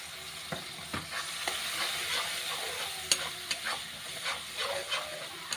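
Cumin, turmeric and chilli powder with salt sauté in a pan for a fish curry, a low steady sizzle with repeated light stirring scrapes and clicks.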